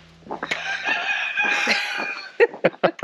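A rooster crows loudly and close by, a long drawn-out call followed by a few short clucks.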